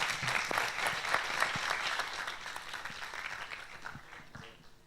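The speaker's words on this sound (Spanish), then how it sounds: "Un aplauso a Axel, hombre." An audience at a university student hackers' association presentation claps for Axel, a brisk, fairly close round of applause that slowly tapers off over a few seconds.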